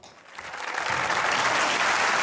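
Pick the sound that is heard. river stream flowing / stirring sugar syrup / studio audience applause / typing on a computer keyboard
studio audience applause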